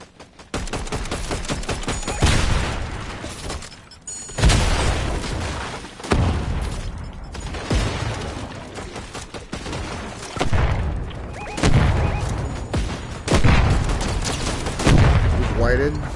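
Explosive rounds from a video game weapon fire in rapid bursts, with booming blasts and repeated sharp gunfire recurring every couple of seconds, loud and close, while players talk over the chaos.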